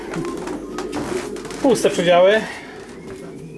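Pigeons coo in a short burst close by in a loft, rising over steady background noise while someone speaks briefly.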